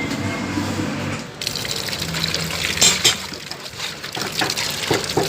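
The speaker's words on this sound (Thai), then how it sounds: "เอาไปล้างน้ำกันก่อนเลยเนาะพี่น้อง" Running tap water splashes and gushes steadily over beef tendon being rinsed by hand in a kitchen basin, with a brief pause before the flow resumes, close and moderately loud.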